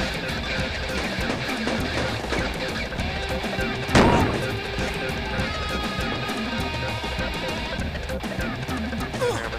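A single sharp grenade blast bursts out midway through a noisy Project Reality battle, loud and brief above steady background rumble and scattered gunfire.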